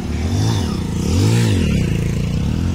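A vehicle on the Narmada parikrama route near Shulpani starts up and pulls away, its engine revving in rising and falling swells with clattering and scraping underneath, close and continuous.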